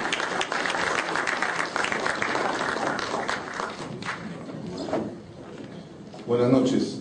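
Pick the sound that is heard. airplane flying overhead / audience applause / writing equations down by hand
audience applause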